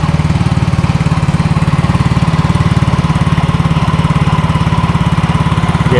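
A used motorcycle engine running steadily close by, with a continuous mid-pitched putter and a slight rattle, holding fairly even with little sign of a sharp rev.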